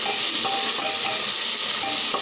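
Onions browning in hot oil with asafoetida for masala khichdi, a loud, dense, unbroken sizzle close to the pan with faint stirring underneath.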